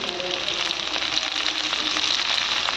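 Curry leaves and green chillies hit hot oil in a home kitchen pan for a prawn semi-masala, giving a steady, close, loud sizzle and crackle that carries unbroken for the whole stretch.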